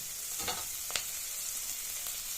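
Green chillies and cashews fry in a pan while cooking egg semiya, giving a steady, close sizzling hiss throughout, broken by two brief spoon-stirring knocks early on; no one speaks.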